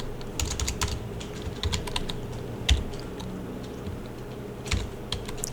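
Fingers type on a computer keyboard to enter a command in a terminal, a quick irregular patter of close key clicks with short pauses and one firmer keystroke midway.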